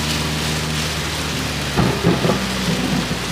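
Heavy rain pours steadily during a thunderstorm on a road trip in a 400whp Subaru WRX, with a loud, close thunder crack and rumble bursting out partway through over the constant roar of the downpour.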